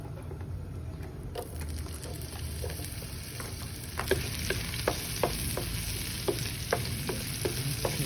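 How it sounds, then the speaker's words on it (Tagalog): Garlic sautés in a pan with a continuous close sizzle and frying hiss, joined by regular scraping and tapping strokes of a utensil stirring it. "we gonna saute the garlic"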